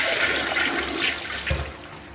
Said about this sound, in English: Toilet flush is working fine.